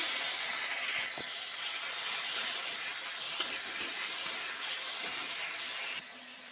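Onion paste and nigella seeds frying in hot oil, a steady, loud hissing sizzle that holds evenly and then drops in level near the end.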